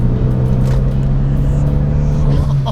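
A Renault Megane R.S. 250 Cup hot hatch with a manual gearbox pulls hard in second gear, its engine note droning loud and close as it climbs slightly in pitch, with no talk.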